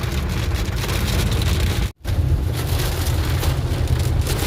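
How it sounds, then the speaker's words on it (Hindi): Heavy rain from a violent storm pours down steadily in a dense, loud roar, broken by a split-second cut to silence near the middle before the downpour resumes. "तूफान बहुत ज़बरदस्त आ रहा है"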